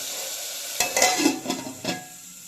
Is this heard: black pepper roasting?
yes